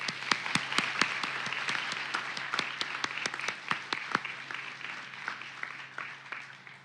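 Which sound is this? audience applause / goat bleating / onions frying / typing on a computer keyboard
audience applause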